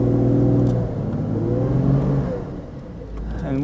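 A car engine revs loud and steady while the car is stuck in deep snow on the way to McKinstry Lake at 7000 ft. The whine rises and falls with no voices over it.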